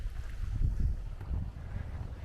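Gusty wind buffets the microphone in low, uneven rumbling bursts over a couple of seconds on a nature trail at Lammassaari, Imatra, Finland, with no voices.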